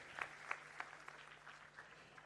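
Faint audience applause at the Sarthaka Foundation scholarship distribution ceremony, with scattered claps and a few sharper hand strikes standing out over a soft, steady patter for a couple of seconds.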